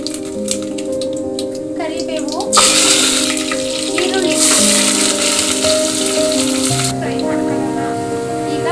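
Mustard seeds and two dried red chillies hit hot oil and burst into a loud, hissing sizzle that lasts several seconds, with a voice talking before and after it.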